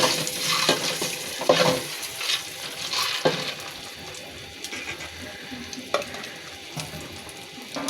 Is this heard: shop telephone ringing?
no